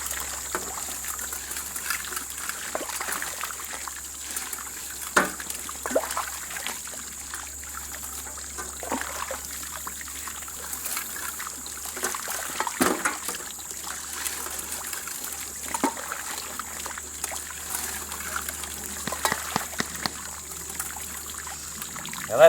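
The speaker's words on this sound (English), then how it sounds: "Keep that water rocking from side to side on this box." Water sloshing and trickling through a gold prospecting cradle being rocked side to side in a field in Indiana, with a continuous splashing, gurgling flow and scattered clanks under a steady hum.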